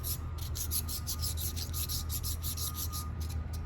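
A meat grinder plate rubbed on a coarse blue DMT diamond sharpening stone gives rapid back-and-forth rasping strokes, close and steady, with no talk over it.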